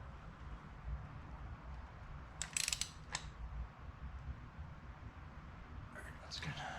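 A ratchet clicks in brief bursts while tightening spark plugs in an 8th-gen Honda Civic Si engine, faint against a steady background hum.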